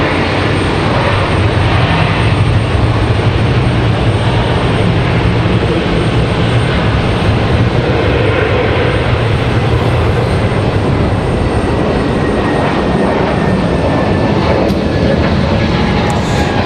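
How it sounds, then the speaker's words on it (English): A Frontier airliner departs Raleigh-Durham International Airport, its jet engines a loud, steady roar that fills the whole stretch without a break. "Frontier and United going to leave back to back here."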